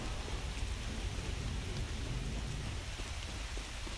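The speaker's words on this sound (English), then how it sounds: "I believe it's been raining every time I've tried this." Steady, dense rain patter with a low rumble of thunder underneath in an open-world survival video game, even and continuous, fairly quiet and with no voices.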